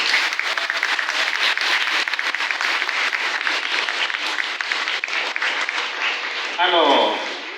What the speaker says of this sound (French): Acclamons fort pour le Seigneur.